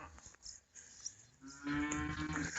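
A cow on a farm gives a long, low moo that swells loud in the second half, preceded by quieter rustling and shuffling nearby.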